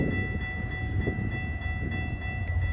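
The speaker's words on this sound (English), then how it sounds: "Amazing horn show and perfect timing." Amtrak City of New Orleans passenger train sounding a steady multi-tone horn chord that holds for the whole stretch, loud and close over a low rumble of the moving train.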